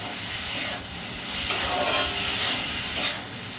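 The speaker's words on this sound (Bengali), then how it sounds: "নুন আর হলুদটা দিয়ে সঙ্গে সঙ্গে ভাজবো আর আলু পেঁয়াজটা যখন একটু একটু ভাজা হয়ে যাবে তখন চিনি দেব" Potatoes and onions fry in oil with salt and turmeric, a steady sizzle broken by a few stirring scrapes and spatula clatters, close and alone.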